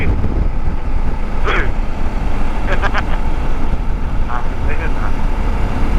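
Strong wind roars steadily against the microphone during a motorcycle ride on winding roads through Bataan to Subic, a constant low rumble with a few faint, brief sounds poking through.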